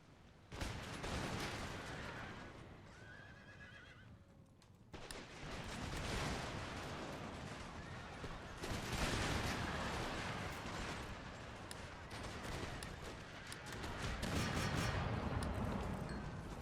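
Infantry musket volley fire from the Empire Total War game, with dense crackling gunfire bursts and rumbling booms that sound nearly continuous, loud and close, building in waves after a brief lull at the start.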